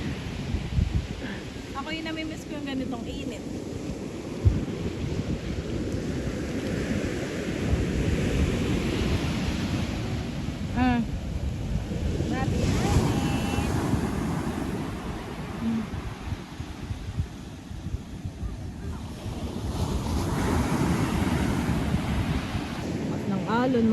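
Sea waves wash steadily onto a beach under constant wind buffeting, a dense broadband roar filling the whole stretch, with faint voices chatting now and then in the background.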